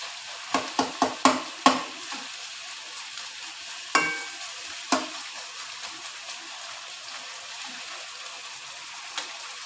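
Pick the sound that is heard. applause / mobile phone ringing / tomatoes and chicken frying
tomatoes and chicken frying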